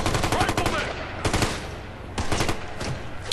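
Scorpion gun fire in Ghost Recon: Future Soldier, rapid automatic bursts crackling in clusters with brief gaps between, loud and close amid dense game action.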